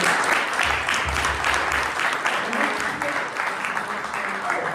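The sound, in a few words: audience applause for presenters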